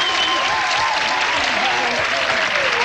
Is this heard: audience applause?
yes